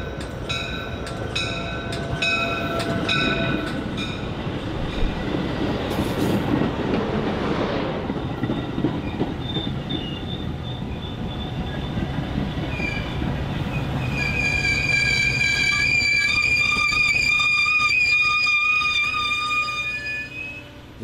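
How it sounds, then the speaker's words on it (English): A BNSF Metra commuter train snakes through crossovers and pulls into the station, its steady rumbling roll joined midway by a sustained high-pitched wheel squeal that grows stronger toward the end, close and loud. "Snaking through the crossovers from Main 1 to Main 3, the conductor rides the head end to protect the shove as they pull into the station."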